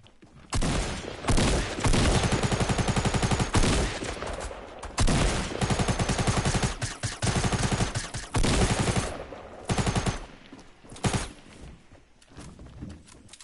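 Rapid automatic gunfire from guns in a video game, loud repeated bursts of varying length separated by short pauses, with no voices.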